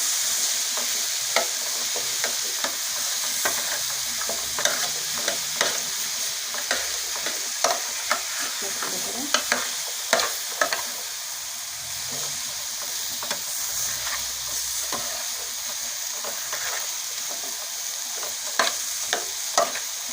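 Chicken and vegetables fry in a pan with a steady soft sizzle, punctuated by repeated scraping clicks of a utensil stirring, close and moderately quiet throughout.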